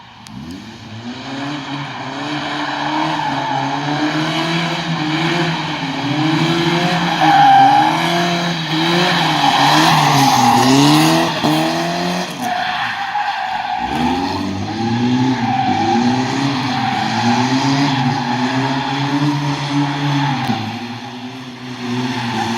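A cheap 300-dollar Volvo drifting on a street: a loud, revving engine mixes with long wailing tire squeals that rise and fall. Both cut out briefly midway, then the engine roars and the squealing returns.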